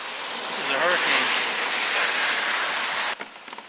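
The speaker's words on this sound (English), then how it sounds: "this is a hurricane." Hurricane Irene's wind and driving rain roar as a steady, loud broadband wash for about three seconds, then cut off abruptly into quieter gusts and scattered patters.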